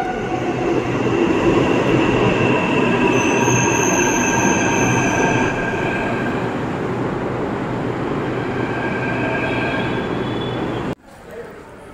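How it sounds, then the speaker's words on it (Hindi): A Delhi Metro train runs on the Red Line, heard from inside the carriage as a loud, steady rumble with high squealing wheel tones, then an abrupt drop near the end. "ये हम हैं रेड लाइन पर।"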